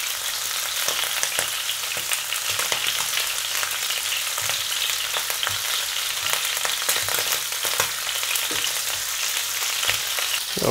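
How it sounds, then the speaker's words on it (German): Shrimp searing in hot oil in a pan for spaghetti with shrimp, a loud, steady hissing sizzle with crackling pops throughout, close up and without any voice. "Und braten sie einmal scharf an von jeder Seite."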